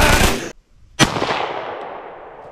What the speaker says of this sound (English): All right, so I'm going to shoot both of the targets now.